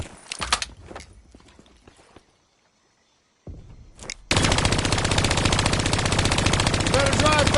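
Turret machine gun in Call of Duty opens up in a dense, loud continuous burst after scattered shots and a brief silence, sustained rapid firing to the end.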